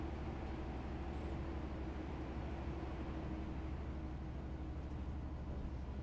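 A Class 365 double set rumbles past in Train Simulator, a steady low drone and hum that holds at a moderate level with no breaks.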